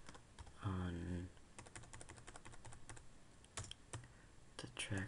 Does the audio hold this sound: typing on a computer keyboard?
yes